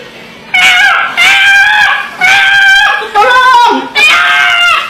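A voice imitates a small chicken caught in a fence: five shrill, strained squawks in quick succession, each loud and close, separated by brief pauses.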